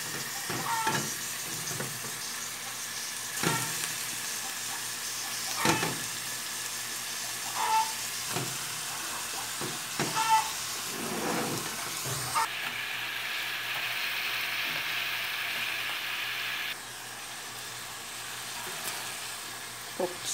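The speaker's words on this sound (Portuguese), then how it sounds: "Tá botando o peixe aqui." Fish sizzles in a hot pan with onion, giving a steady, close hiss of frying. Occasional sharp clatters and stirring knocks break through the sizzle, with no one talking over it.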